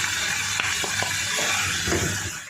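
Tomato and salt are stirred and sautéed in a pan, giving a constant sizzle with a few soft scraping knocks of the spoon against the pan.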